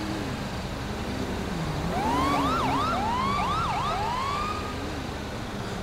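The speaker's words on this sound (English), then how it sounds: "I think I hear a siren then of another unit coming in." A police siren wails in a video game, its rising and falling tones looping steadily at moderate distance over a constant background of traffic rumble, with no talk.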